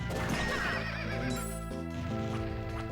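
A horse enemy in Castlevania: Order of Ecclesia lets out a loud, close, sweeping whinny with strong harmonic tones, followed by a shorter second neigh, alone with no talk.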